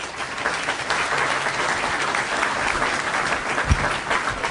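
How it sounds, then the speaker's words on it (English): Audience applause at a university alumni panel event, a thick continuous wash of many hands clapping at even loudness for the whole span, unbroken by speech. "Let's give them another round of applause."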